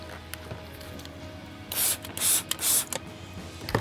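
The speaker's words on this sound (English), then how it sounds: "A couple of sprays here on a Detail Factory tire brush." Cleaner is sprayed onto a Detail Factory tire brush during tire cleaning: three quick, crisp hissing sprays close by, after a quiet stretch with faint handling noise.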